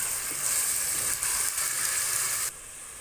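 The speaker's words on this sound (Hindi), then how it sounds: "अब हम इसमें ऐड करेंगे अपना ये टमाटर।" Tomatoes go into a pan of browned chicken and onions for chicken palak curry. A steady, bright sizzle and hiss of frying fills the whole clip at close range, then drops sharply in level near the end.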